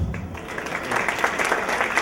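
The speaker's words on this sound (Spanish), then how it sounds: "Bueno, démosles nuevamente un fuerte aplauso." Audience applause fills a conference hall, a steady wash of many hands clapping together, loud and continuous without voices.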